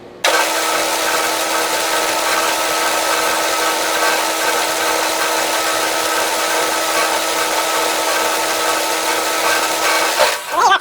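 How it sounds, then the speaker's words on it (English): A power drill bores steadily and deep into a knurled metal part, one loud continuous whine lasting about ten seconds before it cuts off, with no talk over it. "I guess I'm going to have to drill pretty deep into there"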